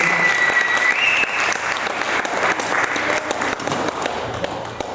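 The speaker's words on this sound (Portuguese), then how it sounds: "Vamos aplaudir o Senhor Jesus," A congregation at a church youth service breaks into sustained applause, a broad, even roar of many hands clapping for several seconds, with a faint tone and brief voices underneath.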